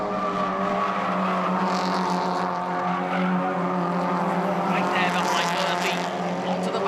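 Toyota 86 race cars racing at Pukekohe Park during a championship round, a steady loud engine drone with shifting pitch as the cars pass, with race commentary over it throughout.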